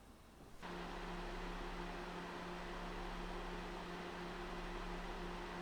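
An ARCTIC Freezer 34 eSports DUO CPU cooler with twin fans, starting quiet and then jumping to a loud, steady whoosh of air with a constant tonal hum as the fans spin up to full speed.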